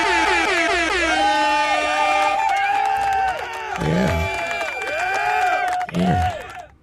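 A blaring air horn sound effect fires off during a livestream, sustained and loud with wavering pitch, then repeats in shorter blasts near the end.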